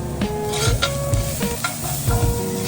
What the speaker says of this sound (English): The sizzle right there means that these suckers are about done.